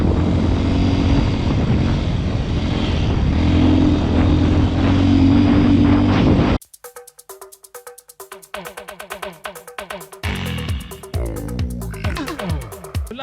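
A steady, droning engine hum fills the first half, then cuts to revving bursts from a 2021 Beta RR 125 4T enduro motorcycle that rise and fall in pitch.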